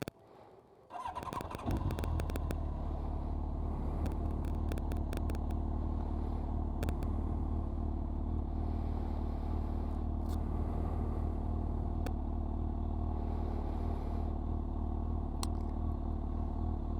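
Honda CBR 1100 XX Blackbird motorcycle engine starting up after a brief quiet moment, then idling with a steady, loud, deep rumble, with occasional light clicks and clatter on top, and no talk.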